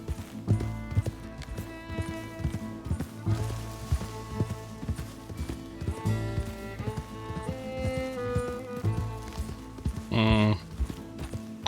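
A horse gallops in Red Dead Redemption 2, its rhythmic clip-clop hoofbeats repeating steadily under game music and ambient sound. A short whinny-like burst cuts in near the end.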